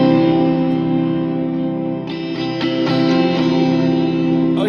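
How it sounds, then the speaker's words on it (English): Sustained ambient electric guitar chords run through a compressor, EQ and heavy Cubase reverb, with soft new notes plucked over long washy tails. "believe it or not, the rest of the reverb is all coming from Cubase."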